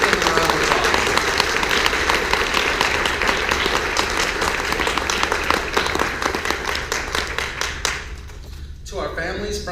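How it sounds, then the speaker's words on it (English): Loud, dense applause from a graduation audience at a paramedic program ceremony, sustained clapping that thins and tapers toward the end as a voice begins to come through. "give them a round of applause."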